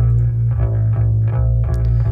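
A bass line in Pro Tools is treated with a small amount of lo-fi plugin distortion, giving a loud, full, buzzing low tone with added harmonics and a steady pulsing rhythm, with no voices.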